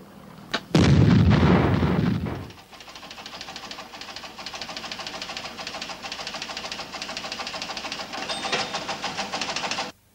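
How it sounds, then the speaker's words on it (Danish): A sudden loud explosion on a leisure boat bursts out with a heavy low boom lasting about two seconds, then drops to a steady mechanical rumble with faint rhythmic knocking. "Hvert år sker der flere eksplosioner og brænde i fritidsfartøjer."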